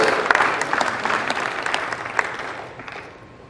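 A church congregation at Iglesia de la Gracia de Austin applauds together, a dense burst of many hands clapping that swells and then slowly fades out.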